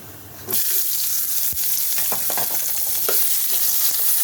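Chopped onions hit hot oil already holding whole dried chilies, star anise, cardamom and cinnamon. A sudden loud hiss breaks out and keeps going as a steady close sizzle, with scattered spatula scrapes and taps and no talking.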